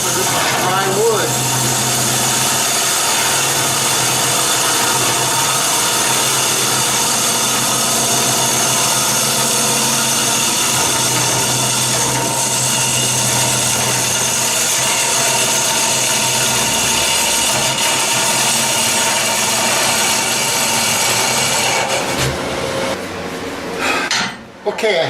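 A wood lathe hollows out a dry wood bowl, a steady, continuous whirring hum layered with light scraping of the cutting tool against the sidewall, holding even loudness before cutting off near the end.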